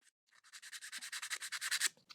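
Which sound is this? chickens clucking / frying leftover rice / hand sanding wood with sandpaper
hand sanding wood with sandpaper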